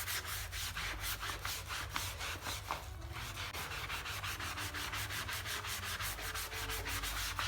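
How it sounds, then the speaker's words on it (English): A dirty mouse pad is scrubbed with a soft sponge in steady, rhythmic back-and-forth strokes, a close, quiet rasping rub that continues without pause. "Keep scrubbing till you lose your arm."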